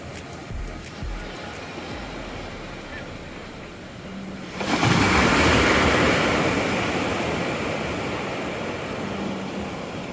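Sea surf washing onto the beach at Digha, a steady broadband wash that swells into a louder surge of breaking water midway and stays loud, close by, with faint voices in the background.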